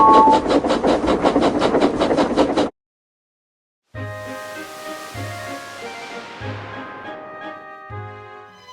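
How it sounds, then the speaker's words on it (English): Animated tank engines chuff along a railway near a scrapyard on an island, a steady rhythmic train sound with clacking beats that stops briefly, then a second passage of rail noise with regular low thumps and ringing tones. "Presley and Jimbo were chuffing towards the other side of the island, right near the scrapyard"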